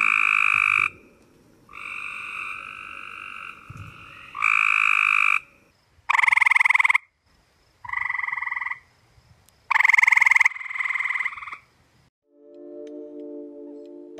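Grey tree frogs give loud, close mating calls: a series of short musical trills in separate bursts with brief pauses between them, ending with a lower-pitched call.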